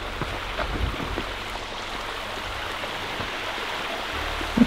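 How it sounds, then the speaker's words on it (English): Small waterfall in a desert canyon in New Mexico, a steady close rush of splashing water filling the scene without pause, with no voices over it. "Little mini waterfall. Look at that."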